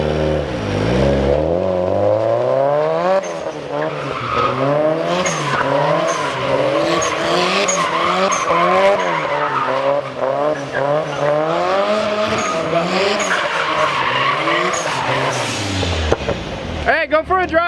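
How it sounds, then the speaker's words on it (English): A turbocharged Mazda Miata spins a donut, with a loud, continuous tire squeal and skid over a revving engine that rises and surges throughout, then cuts off sharply near the end; voices can be heard. "I'm gonna do a donut in Marco's car."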